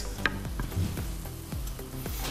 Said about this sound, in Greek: Ήδη ξεκίνησε και βράζει.